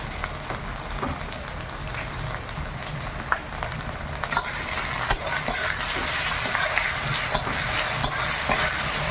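Ginger-garlic paste fries with onions in a hot pan, a steady crackling sizzle with occasional stirring scrapes that grows louder and brighter partway through.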